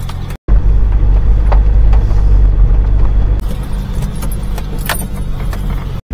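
A small vehicle engine rumbles loudly and continuously as it drives along, with rattling and jangling bits over the steady drone.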